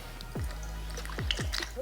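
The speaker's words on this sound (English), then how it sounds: "still dripping out of there" Liquid drips from the cylinder gasket of a two-stroke engine in a garage, three quick descending plops, close and distinct over a low steady hum.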